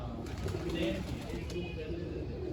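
A pigeon's low, throaty coo rolls through steady background noise, soft and close, with faint murmuring around it.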